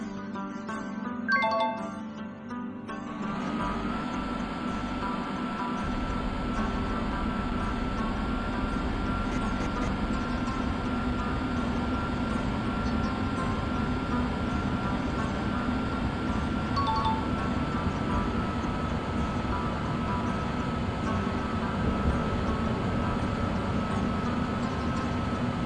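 An Indian Railways train rolls through the Kashmir Valley toward Srinagar, a steady loud rumble of wheels and carriage noise that holds evenly throughout, with a brief knock near the start.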